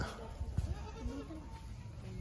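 A goat bleats a few times in quick, wavering calls at fairly close range, faint against a low background hum.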